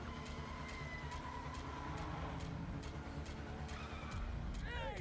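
Cars racing around in an action film scene, engines roaring steadily with rising whines and a sharp tire skid squeal near the end, dense and continuous at moderate loudness.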